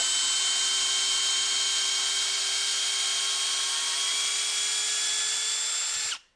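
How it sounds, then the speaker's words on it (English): Hilti drill driver running steadily at speed 1 while driving into timber, a loud continuous whine that holds for about six seconds before stopping abruptly. "That is one powerful little drill driver."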